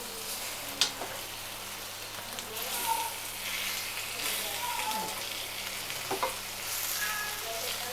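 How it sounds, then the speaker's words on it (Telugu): Fish pieces frying in a thick-bottomed pan as they are stirred and flipped, a continuous soft sizzle with occasional scraping knocks of the utensil, close and fairly quiet throughout with no speech. "అడుగు మాడకుండా కలుపుకుంటూ ముక్కల్ని ఒక 2 మినిట్స్ అయిన తర్వాత ఇట్లా ఫ్లిప్ చేసుకోవాలి."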